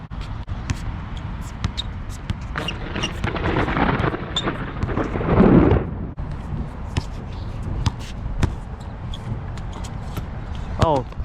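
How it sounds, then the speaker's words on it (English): Rain falls steadily as a hiss over an outdoor one-on-one basketball game, with a ball bouncing on the court, a rumble of possible thunder and players talking nearby. "Oh, it's raining."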